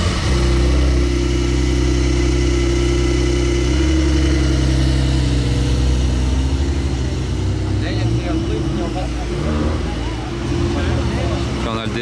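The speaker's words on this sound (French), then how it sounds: "Départ de la fameuse Porsche Turbo Brabus, très sympa." A Brabus-tuned Porsche Turbo pulls away, its deep engine rumbling loudly and steadily at close range. Later the tone shifts slightly as it moves off, with faint background crowd noise.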